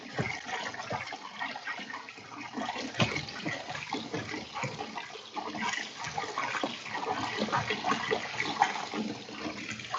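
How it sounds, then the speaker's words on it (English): Ramen noodles rinsed under running water in a strainer, a steady broadband wash of splashing and trickling that stays fairly even and close throughout, with no talking. "into the strainer, and I'm going to wash the noodles"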